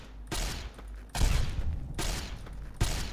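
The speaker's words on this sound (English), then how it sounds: "Shooting blowflies is hard." In Fallout: New Vegas, a player fires at blowflies with a gun. Four heavy, booming shots or bursts land about a second apart, loud and close over rumbling game noise, with no speech.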